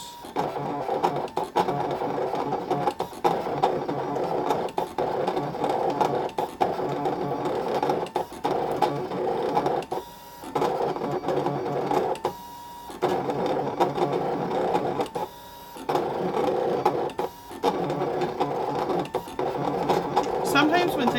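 A Brother ScanNCut cutting machine cuts out a design with small lettering, its motor whirring and buzzing in busy bursts with several short pauses between passes, while a person talks over it.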